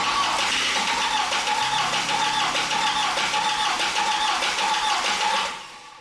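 A 1.8T car engine turning over on the starter after a timing belt install, with a continuous rhythmic cranking churn that fails to catch, loud and close, then cutting off abruptly near the end.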